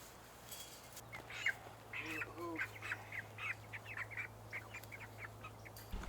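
Poultry squawk and quack in scattered bursts over a steady low hum, fairly faint and some distance off.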